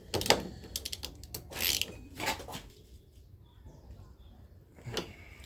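A ratchet wrench with an 18 socket turns a bolt while bushings and control arms are fitted on a Chevy ute, giving bursts of quick close clicking that thin out into scattered single clicks.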